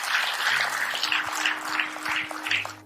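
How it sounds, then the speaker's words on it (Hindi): Audience applause at a sales seminar, a steady wash of many hands clapping for about three seconds with a faint background hum and no talk over it. "एक जोरदार तालियां होनी चाहिए।"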